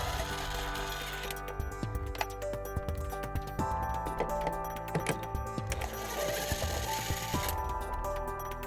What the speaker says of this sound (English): Each taillight is held in by 2 bolts. And we're going to remove those using a 10mm socket.